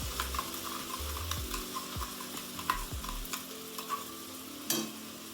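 Onions fry with cumin and coriander powder in a pan, a steady sizzle broken by repeated scraping stirs and metal clinks of the spoon, close and continuous.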